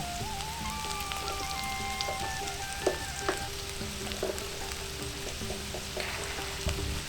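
Vegetables, pumpkin and taro for a pui shak curry, fry lightly in a pan with a soft, steady sizzle and scattered pops, fairly quiet and close, with no talking.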